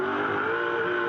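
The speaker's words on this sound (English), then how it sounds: "you hear there the wheel spin" A Touring Car Masters race car spinning its wheels during a 2011 race in Adelaide, heard as a loud, steady onboard engine roar with a sustained high whine throughout.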